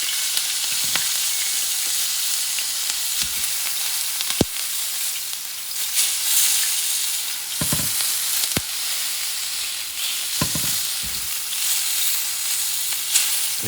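Pork loin fat sizzling on a cast iron griddle, a steady bright hiss running throughout with occasional clicks and clunks of a utensil, no voices.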